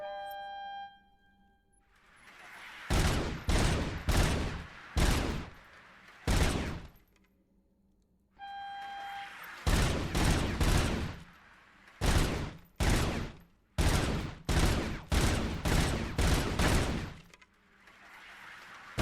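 Bursts of automatic gunfire from a gun in Robocop: Rogue City, loud rapid volleys in several separated clusters with short pauses between, a few tonal horn-like blips before the first and second volleys.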